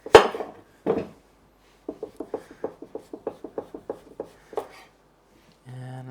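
Vegetable peeled with a knife in a home kitchen, a run of short, crisp scraping strokes in quick regular rhythm, close and clear, with a few louder knocks before and a brief tonal hum at the end.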